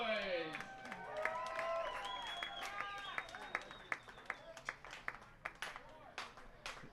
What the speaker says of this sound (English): Crowd trying to get behind Esparza